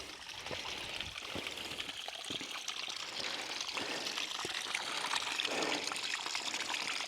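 Water trickling steadily from a spring, a soft continuous babble with occasional small splashes and drips, fairly close and unbroken throughout.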